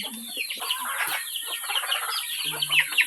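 Several chickens cluck and squawk close by in a busy, overlapping chorus, with a steady high electronic whine running underneath.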